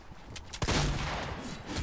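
A single loud shotgun blast in Fortnite bursts out, followed by a short ringing tail and faint game background noise; brief and punchy.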